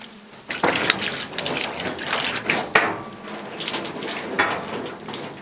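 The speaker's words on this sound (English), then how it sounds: "temporarily I'm just going to be letting it run into this tank until it's full" Water gushes steadily from a line into a tank at an off-grid cabin, a continuous close rushing pour with a few louder surges and no talk.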